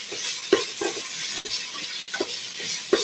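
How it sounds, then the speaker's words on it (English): Tomatoes, salt and spices cooking over medium heat in a pan are stirred with scraping strokes every so often over a steady, soft sizzle, with no voices. "I'm going to continue stirring a little"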